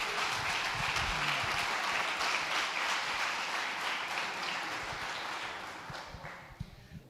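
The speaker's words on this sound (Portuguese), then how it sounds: "Dê uma salva de palmas para Jesus." A church congregation at a live worship service breaks into sustained applause, a thick, even wash of many hands clapping that holds steady before tapering off near the end.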